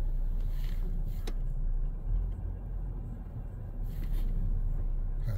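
Chrysler Pacifica minivan reversing under park assist, a steady low engine and road rumble inside the cabin, continuous and fairly loud with slight swells, no talk.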